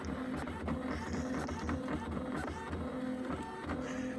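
A 35-year-old Canon BubbleJet BJC 800 color printer runs a nozzle test, its print head shuttling with a steady mechanical whir, soft ticks and rhythmic shuffling clicks, faint and close with no talking.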